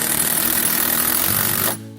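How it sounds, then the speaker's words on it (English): A power drill drives screws through a taper lock bit holder, giving a loud, steady high-pitched whir that stops abruptly near the end. "And I can put in screw after screw,"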